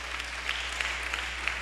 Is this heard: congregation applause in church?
yes